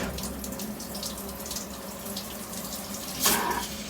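Coolant sprays and splashes onto the workpiece of an Optimill F80 milling machine during a tapping operation, a steady close hiss of liquid with a brief louder gush near the end.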